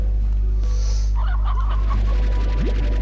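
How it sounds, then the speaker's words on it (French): Chickens cluck in the video game Slime Rancher, a few soft clucks heard faintly over a loud, constant low electronic hum. "Des poules?"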